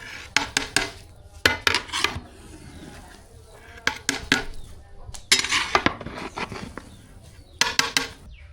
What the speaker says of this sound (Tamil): பிரியாணி தம் போட்டு இறக்கி வச்சாச்சு கொஞ்சம் உடச்சி விட்டுக்கலாம்